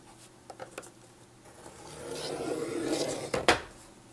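A scoring tool drawn along paper for a treat box, a soft scraping rub that swells over a couple of seconds, with a few light taps and a sharper knock near the end, close and quiet.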